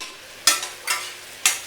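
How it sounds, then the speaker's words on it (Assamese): Onions frying in a pan for biryani, with three separate bursts of stirring and sizzle rising over a quiet background, each loud and close before fading. "এয়া পিঁয়াজখিনি ভাজি আছোঁ"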